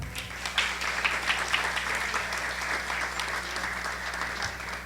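At a public forum on women in Tabasco, an audience breaks into sustained applause, a steady wash of many hands clapping at moderate distance over a low hum.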